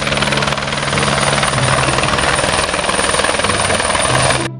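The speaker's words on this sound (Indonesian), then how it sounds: "di sini ada helikopter penumpang" A passenger helicopter makes a loud, close, continuous rotor thrum and engine whine that stays steady throughout, with no talking.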